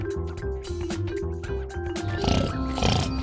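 Cartoon pigs from the three little pigs tale oink in a quick series of nasal grunts, several close-up calls in a row growing louder and busier toward the end.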